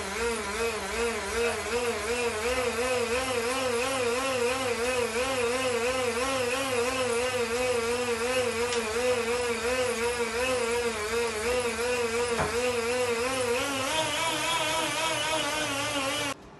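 A bicycle spins on a rolling road trainer in a garage, giving a steady, close mechanical whir with a wavering hum that holds for the whole stretch before cutting off at the end.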